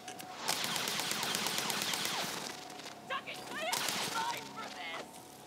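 Rapid gunfire in the video game Borderlands 3 rattles in a dense, loud fusillade for about two seconds, then gives way to scattered shots and whizzing effects, with voices talking over it.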